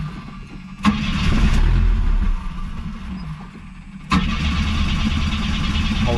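Classic car pulled from a barn, freshly refueled after its tank was drained, cranking and trying to fire; the starter churns loudly and close for several seconds, pauses, then cranks again.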